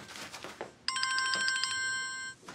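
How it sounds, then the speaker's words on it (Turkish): A telephone rings with a bright electronic trill that holds steady for about a second and a half, indoors at moderate loudness after a few soft household noises. "Telefonun çalıyor."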